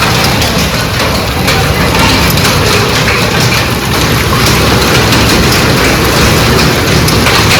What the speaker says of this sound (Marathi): खूप जोरात पाऊस पडतोय अक्षरशः गारा असा उठतात आहे